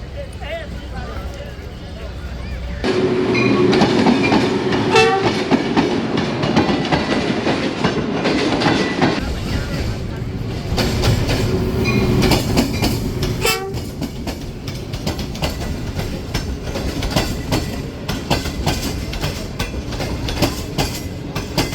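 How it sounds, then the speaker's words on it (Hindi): A passenger train runs at Kot Lakhpat railway station platform on the Lahore to Khudian Khas route, with loud rumbling and clattering wheels, a horn and steady rolling noise close by, and voices talking over it. "एक पैसेंजर ट्रेन के लिए।"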